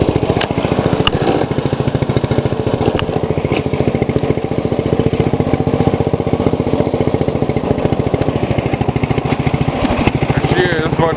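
A 2012 MTD lawn tractor engine runs steadily, loud and close, with a fast pulsing single-cylinder putter that holds an even rhythm throughout.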